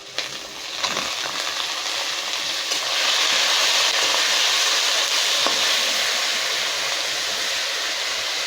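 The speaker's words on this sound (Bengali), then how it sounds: "এখন এই কলার মোচাটা ছেড়ে দেবো।" Banana flower sizzling and frying in a hot pan, a steady loud crackle that swells after a few seconds and holds, with no voices.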